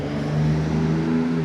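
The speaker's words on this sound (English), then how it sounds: "excuse the noise from cars driving by" Traffic noise from cars driving by on a nearby road, a steady low engine and tire drone running continuously at moderate level with no talk.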